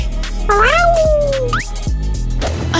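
A cat gives a loud, close meow with a rising then falling pitch, followed by a brief second chirp-like call over a steady low background hum.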